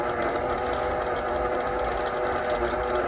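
A Bernina Series 3 sewing machine winds a bobbin with a steady, close mechanical whir that holds constant throughout.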